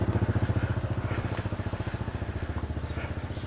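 Motorcycle engine idling nearby on a street in Thailand, a steady rapid throbbing pulse at moderate volume.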